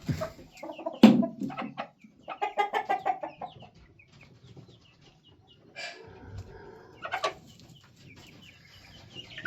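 A Jersey Giant hen in a cage with young chicks clucks in irregular bursts of rapid, scratchy calls with a few sharper squawks, close by and moderately loud, separated by quieter pauses.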